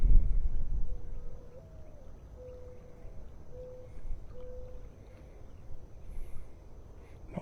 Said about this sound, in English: The sound of that dove in the background.